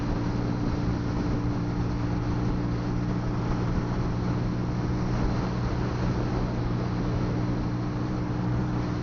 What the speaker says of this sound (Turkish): Maalesef çok rüzgar var.